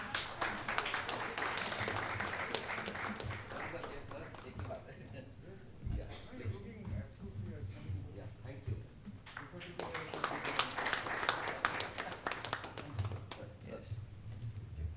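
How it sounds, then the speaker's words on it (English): Audience applause for a speaker at an HR conference, scattered clapping that swells, dips in the middle and rises again, with talking heard through parts of it. "Please have a round of applause."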